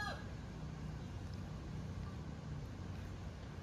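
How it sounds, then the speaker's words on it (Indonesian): Chickens cluck and crow in the background at an outdoor fishing spot, faint and steady under a constant low rumble of ambient noise. "suara ayam lagi"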